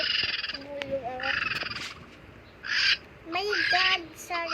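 Repeated bird calls sound in a video game, short bursts of chirping tones spaced across a few seconds against a quiet game ambience, with a second call and an animal-like croak mixed in.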